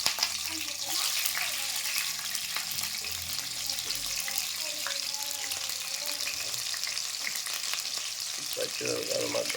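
Green chillies frying in hot oil in a home kitchen pan, a steady close sizzle and crackle that runs throughout with occasional stirring scrapes and faint voices in the background.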